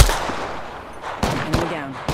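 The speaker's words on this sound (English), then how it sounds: "Hey, I'm getting shot!" Scattered shots in an Apex Legends firefight, a few sharp reports spaced across a short stretch over a low background rumble, with no one talking.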